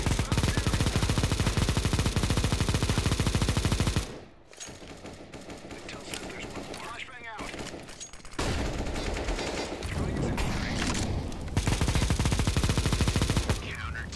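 Counter-Strike: Global Offensive gunfire, with dense rapid automatic shots filling the first few seconds, then a quieter stretch of scattered in-game sounds and footsteps, followed by more bursts of loud shooting.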